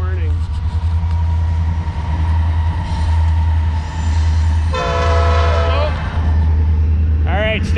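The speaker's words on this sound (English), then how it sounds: "have a CN rail train go by here any second." A CN Rail train rumbles steadily past up close, and its horn blasts loudly twice over the rolling drone while a person talks.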